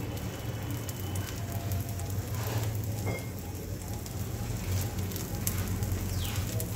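A cucumber thalipeeth fries in oil on a nonstick tawa, giving a steady, soft sizzle and crackle like light rain that carries on without pause and with no talk.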